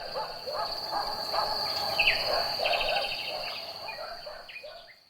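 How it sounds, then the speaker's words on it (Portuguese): Several birds sing and call in varied, overlapping chirps and whistles over a steady high insect drone, likely crickets, in an outdoor natural soundscape; no clear dog barks stand out. "Conseguimos escutar sons de pássaros, com cantos diversos, de grilos e de cachorros."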